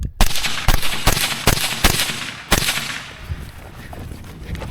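Rifle shots ring out loud and close, about six sharp cracks in an uneven sequence, each followed by a ringing outdoor echo that fades away.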